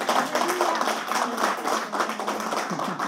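A church congregation clapping during an Easter Sunday celebration service, a brief burst of moderately loud, dense handclaps at an even pace that lasts the whole moment.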